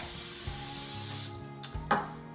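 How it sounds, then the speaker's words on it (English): A steady hiss of Pam aerosol cooking spray onto a pan runs for over a second, then a couple of short extra bursts, close up with no talking. "spray my pan with some Pam so it doesn't stick"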